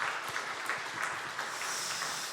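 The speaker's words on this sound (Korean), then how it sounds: "우리 박수로 환영하겠습니다" Church congregation at a Sunday worship service applauding to welcome newcomers, an even patter of many hands clapping in a room at moderate volume.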